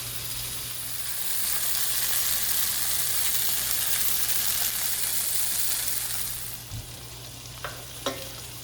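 Butterfish fillet frying in a pot gives a steady, loud sizzle that fades toward the end, followed by a couple of light utensil clicks.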